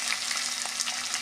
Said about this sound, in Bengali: আলু আর এঁচোড়টা যখন একটু ভালো করে ভাজা ভাজা হবে